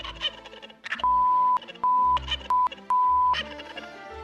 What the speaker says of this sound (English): They're turkeys from Boston.